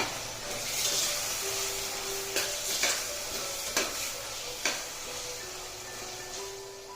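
A cucumber and tomato curry being stirred with turmeric and spices in a hot pan, with a steady sizzle and hiss broken by several sharp scraping clacks of the spoon.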